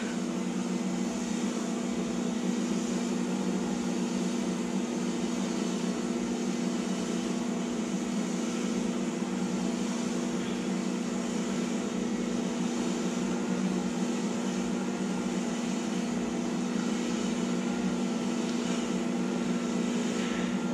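A stand mixer spins hot water pastry dough for meat pie crust, giving a steady, continuous motor hum with a low droning tone that holds level throughout, with no talking.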